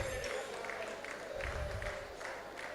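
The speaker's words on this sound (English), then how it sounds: "Please give him a round of applause." Audience applause at a prize announcement during the Felabration 2022 Fela Debates, a soft, fairly distant patter of many hands clapping steadily without a break.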